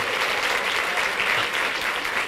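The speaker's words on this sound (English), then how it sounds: "Can we give the people who put this program together and these beautiful things a round of applause?" A crowded indoor audience claps warmly for the organizers of an annual program, a thick, even wash of applause that holds steady throughout, with no words over it.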